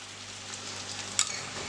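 Golden onions and crushed spices fry in a pan for a sausage dish, a steady soft sizzle with a brief brighter spatter or clink near the end; no one talks.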